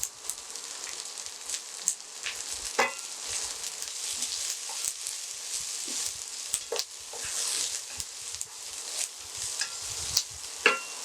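Slit green chillies and a single dried chilli fry in hot oil for a Karnataka-style drumstick sambar, giving a steady soft sizzle with scattered crackles and occasional sharp pops, close and fairly quiet with no voices.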